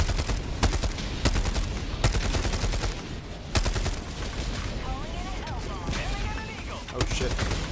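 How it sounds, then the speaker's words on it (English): Heavy gunfire and explosions from a naval bombardment in a video game, with a walking barrage of repeated loud blasts and shots filling the whole stretch while a voice talks over the top. "Our ships are bombarding this place."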